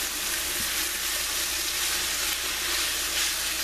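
Julienne chicken and vegetables with red onion sizzle steadily in a pan, a close, continuous crackling fry with no pauses or talk.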